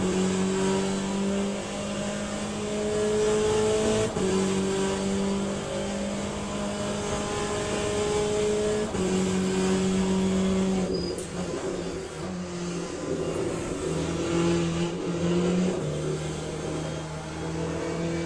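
Race car in the video game Le Mans Ultimate, played in VR, its engine droning loud and steady as it climbs through gears with repeated upshifts and downshifts while cornering.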